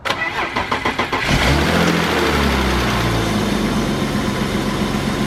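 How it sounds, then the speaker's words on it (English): A BMW E36 325i sedan with an M50 engine cranks in rapid pulses for about a second, catches with a loud burst, then settles into a smooth, steady idle close by. "This is a nice sounding M50."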